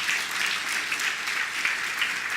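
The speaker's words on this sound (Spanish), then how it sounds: "¿Cuánto da un aplauso a Jesús?" Congregation applauding for Jesus during a church service, a steady dense wash of clapping from many hands that holds evenly for the whole stretch, with no pause and no voice over it.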